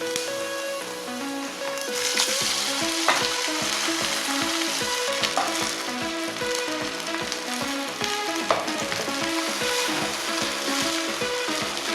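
Cashew nuts and ginger sizzle and fry in hot oil in a pan while making saamai rice pongal, a steady dense crackle with occasional stirring clinks, close and continuous throughout.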